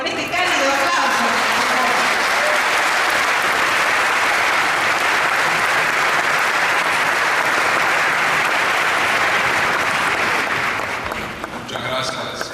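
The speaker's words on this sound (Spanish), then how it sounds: "lo recibimos con este cálido aplauso" Warm, sustained applause from a large audience welcoming a speaker, a dense loud wash of clapping that holds steady for several seconds before tapering off, with a voice starting at the end.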